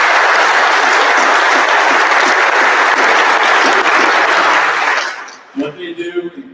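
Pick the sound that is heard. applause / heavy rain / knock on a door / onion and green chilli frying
applause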